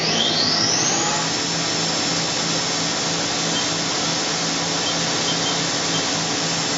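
Spindle of a 2006 Haas VF-6/40 three-axis vertical machining center running at 10,000 RPM, a steady close whine with a high rising tone at the start and a constant hum underneath, no talk.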